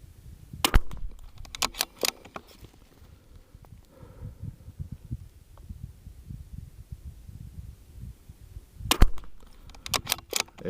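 A .22 LR rifle firing Lapua ammunition at a long-range target: a quick cluster of sharp cracks near the start and another burst near the end, close and loud, with a quieter rumbling background between them and no speech.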